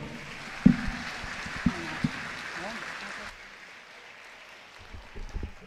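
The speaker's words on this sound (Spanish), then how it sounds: "Más fuerte el aplauso para Mauro" A crowd at a school graduation ceremony at I. E. Carlos Holguín Mallarino claps for a person named Mauro, a steady wash of moderately distant applause with a few sharp thumps. It stops abruptly partway through, leaving near silence.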